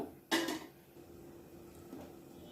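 A spatula stirs potato fry coated in masala powder in a pan: one sharp metallic clatter, then a soft, quiet sizzle-like hiss that carries on at low level.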